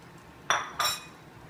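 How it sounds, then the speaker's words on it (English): A pan shaken back and forth while omelet eggs are stirred fast, heard as two quick metallic clinks and scrapes, close and brief, in an otherwise quiet kitchen. "I'm going to shake the pan back and forth while stirring really fast."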